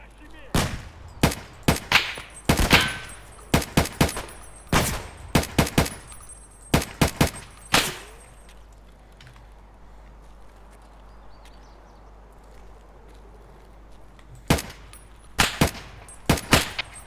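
Gunfire in the video game Escape From Tarkov, with sharp, loud shots in rapid bursts and single cracks, then a quiet stretch before a few more shots.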